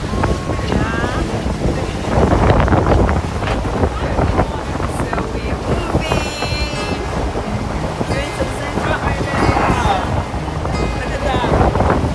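Wind buffets the microphone as a boat heads to Toronto Island over choppy water, with waves splashing and people talking over the constant rushing noise.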